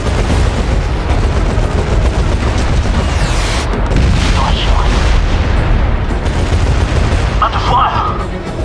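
Fleet strike explosions pound enemy armor in SOCOM 4, a dense, loud and continuous wash of booms and rumbling blasts with scattered crackles, going on without a break.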